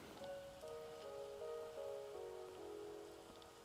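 Soft, steady rainfall hisses in the Wuthering Waves video game world, a quiet continuous wash beneath gentle sustained musical tones.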